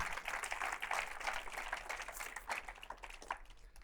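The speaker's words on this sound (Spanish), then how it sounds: "Applaudir Jésus. Pueden aplaudirle." A church congregation applauds for Jesus during a sermon: faint, steady clapping from a crowd that carries on for a few seconds.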